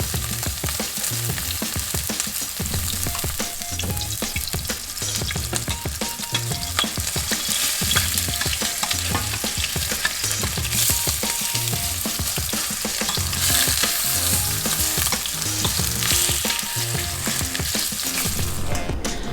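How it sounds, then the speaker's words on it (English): Turkey meatballs brown in hot oil, giving a dense, continuous sizzle and crackle close up, with occasional stirring and scraping, and no talking throughout. "So, one at a time, we're gonna just brown them on two sides."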